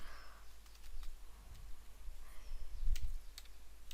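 Keys clack on a computer keyboard while basic HTML code is typed, a run of light, uneven clicks close by with a slightly heavier burst near the end.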